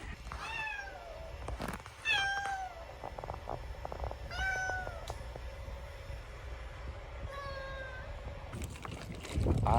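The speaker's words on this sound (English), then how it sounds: "He is a very vocal cat, and I'll be sure to insert a clip of him doing so." Very vocal cat meowing repeatedly indoors, about five drawn-out, falling meows spaced a second or two apart, clear and close over a low background hum, with a few rustles and a burst of noise at the end.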